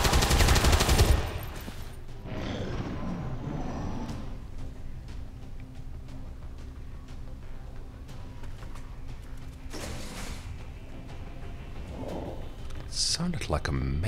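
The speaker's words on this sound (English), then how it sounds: "I might as well shoot with the shotgun." One loud shotgun blast opens a turn-based strategy game skirmish in XCOM 2, followed by quieter ambient rumbles and a few muffled impacts, with someone talking over much of it.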